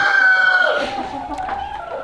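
A rooster crows in a barn, a loud close call with a long held opening that breaks into a falling tail over about two seconds, with other fowl faintly audible behind it.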